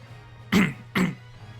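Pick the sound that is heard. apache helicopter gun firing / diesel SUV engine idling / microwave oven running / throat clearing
throat clearing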